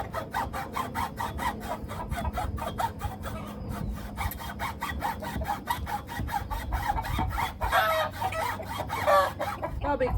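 Many chickens clucking noisily and continuously nearby, a dense rhythmic chorus of repeated calls with a few louder squawks toward the end.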